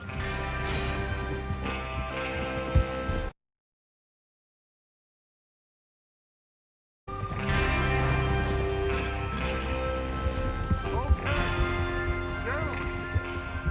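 Horses are ridden across open ground in Red Dead Redemption 2, their hoofbeats thudding under a dense mix of music and game noise. A dead gap breaks the sound partway through.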